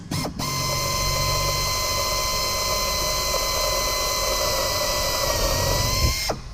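A hand drill with a number 40 bit bores a pilot hole in aircraft sheet metal, whining steadily and evenly for about six seconds between short stops at the start and end.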